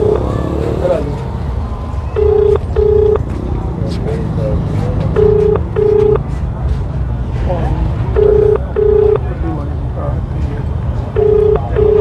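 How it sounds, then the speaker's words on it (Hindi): Ringback tone of an outgoing phone call placed to an RTO officer, with paired ring bursts repeating about every three seconds over a noisy background of continuous talk. "फिलहाल बैल जा रही है, लेकिन आरटीओ ऑफिसर है जो वो फोन पिक करते हुए नहीं नजर आ रहे"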